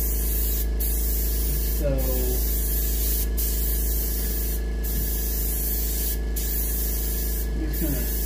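Spray gun laying a light-to-medium yellow coat on a muskie fish for taxidermy, a steady close hiss that runs the whole time over a low electrical hum, with a brief word spoken once.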